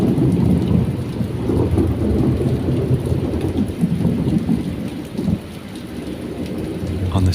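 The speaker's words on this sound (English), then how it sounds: "moment marked by the relentless rain and the ominous thunder" Heavy, steady rain pours throughout a stormy night, with low rumbling thunder rolling continuously beneath it and one deeper swell near the middle; no voices.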